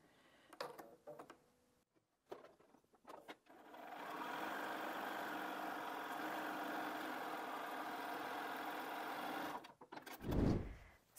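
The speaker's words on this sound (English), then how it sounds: "Just got to sew the other side." A sewing machine runs steadily for about six seconds as it stitches the other side of a cushion cover with an envelope back. Brief handling noises come before it, and a louder low thump follows.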